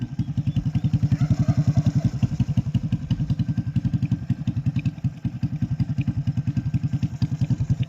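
A Honda RS 125 Fi motorcycle engine converted to a carburetor idles steadily up close, with an even, rapid thumping putter and a light mechanical clatter throughout.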